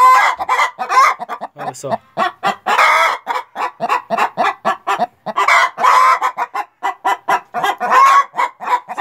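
Hens in a henhouse cackle loudly and repeatedly while laying eggs in the early morning, a dense run of sharp, rhythmic clucks up close, with a brief spoken remark among them.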